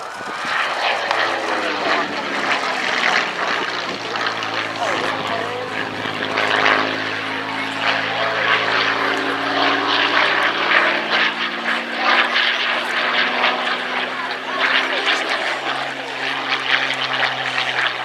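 A Spitfire flies at the RAF Cosford airshow, its propeller engine droning loud and continuous with shifting pitch as it passes, while a commentator talks throughout.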